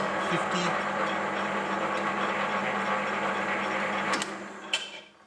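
A metal lathe turns at its lowest speed of 50 RPM while machining a motorcycle cylinder, giving a continuous mechanical whirr with a faint repeating gear rattle, then winding down near the end.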